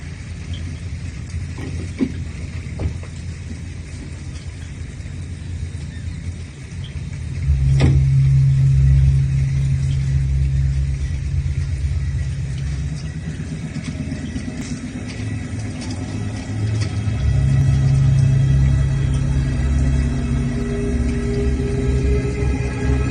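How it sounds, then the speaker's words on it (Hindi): A car drives along a rough, unpaved forest road, its steady engine rumble swelling and easing as it lurches over bumps, loud and close throughout with no talk. "देख कर गाड़ी चलाओ पापा"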